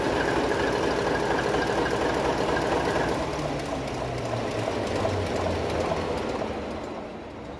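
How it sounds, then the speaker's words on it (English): A ship's main-engine lube oil priming pump runs aboard the M/V Steve Irwin in a steady, loud mechanical drone with a hum, filling the whole stretch and easing slightly toward the end. "just starting the lube oil priming pump there"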